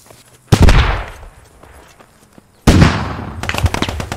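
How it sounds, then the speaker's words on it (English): A tank in a video game blows up, heard as two loud, sharp explosive blasts about two seconds apart, each with a crackling, decaying tail and a short burst of further pops after the second. "It just blew up."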